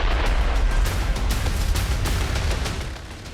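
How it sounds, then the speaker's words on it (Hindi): Explosions from a Russian drone strike on Kyiv: a loud, continuous booming rumble with a dense, roaring low end that stays heavy for several seconds before easing slightly. "इस हमले के बाद कीव में जोरदार धमाका हुआ।"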